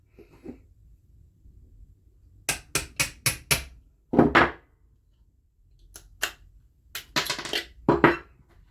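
Sharp metallic taps and clicks come in quick clusters as the trigger pin is removed from a Glock Gen 5 pistol, small hard strikes on metal parts, close and crisp with silent gaps between.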